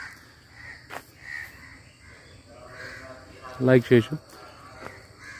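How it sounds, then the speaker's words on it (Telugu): Crows caw a few times at mid distance against faint background birdsong outside a village home at Ainavilli Lanka in Konaseema, while a person talks over much of it. "ఇది చాలా పక్షుల కిలకలు రావాలు."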